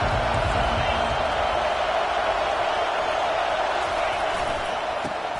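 Crowd cheering inside a football stadium during a South Carolina vs Clemson game, a dense, distant roar that holds steady throughout, with faint commentary underneath.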